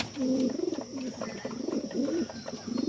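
Sirazi and Lahori pigeons coo steadily in low, throaty rolling calls, one phrase after another, close by with no voices.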